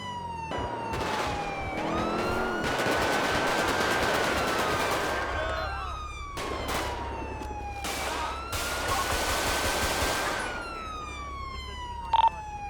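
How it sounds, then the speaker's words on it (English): Gunfire crackles in GTA V with the LSPDFR police mod near a quarry, a state trooper's wailing siren sweeping up and down over it, with a sharp isolated bang near the end. "Bandit 1, shots fired to my location."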